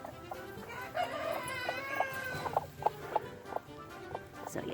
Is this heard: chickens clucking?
yes